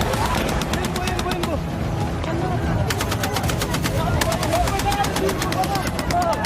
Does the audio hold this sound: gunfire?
yes